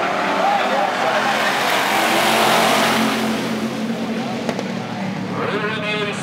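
Race cars battle for the lead, their engines roaring and revving loudly as they pass close by, with a commentator talking over the noise.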